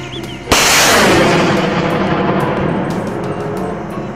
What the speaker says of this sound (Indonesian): Mobil truk peluncur roket.